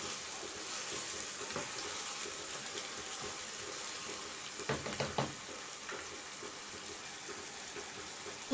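Mutton liver karahi (kaleji) being stirred in a pan over a medium flame gives off a soft, steady sizzling hiss, with a few brief scraping clatters near the middle and no talking.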